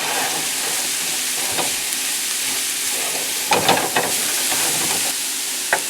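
Beef stroganoff sizzling and frying in a pan while being stirred, a steady broadband hiss with a few louder scraping stirs near the middle and end.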